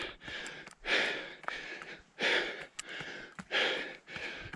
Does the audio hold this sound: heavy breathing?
yes